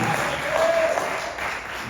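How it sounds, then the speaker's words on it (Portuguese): Applause from a church congregation praising the Lord, a short steady burst of many hands clapping together, moderately loud, with a faint tone running through it. "louva ao Senhor com uma salva de palmas"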